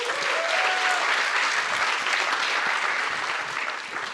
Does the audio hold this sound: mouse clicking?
no